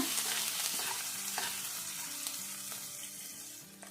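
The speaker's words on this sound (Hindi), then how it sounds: "और अब इन दोनों को फ्राई करेंगे हल्का सा" Chopped garlic and ginger sizzle and crackle in hot oil with steady frying noise and occasional scraping stirs, close by and fairly quiet, no voices.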